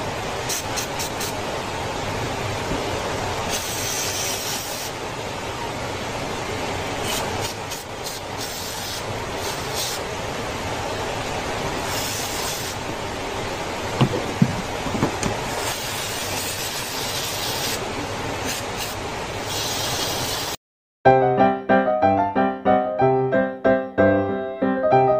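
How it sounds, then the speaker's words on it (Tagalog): Mototek chain cleaner hisses in a long, steady, loud spray onto the chain of a Rouser NS125 motorcycle, with brief pauses in the stream, before music abruptly takes over near the end. "Final spray ng chain cleaning."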